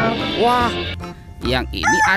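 A rooster crows in loud, close bursts while a person talks over it.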